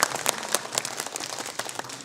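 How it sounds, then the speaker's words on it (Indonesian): Audience clapping at a women's Quran study gathering, a dense patter of many hands forming steady, fairly loud applause with scattered sharper claps throughout. "Beri tepuk tangan yang meriah Bu."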